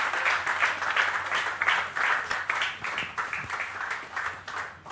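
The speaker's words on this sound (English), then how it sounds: "Louder applause." Sustained, swelling applause from a crowd for shooter and Asian Games medalist Jeetu Rai at a felicitation ceremony, many hands clapping steadily and loudly throughout, with no voices standing out.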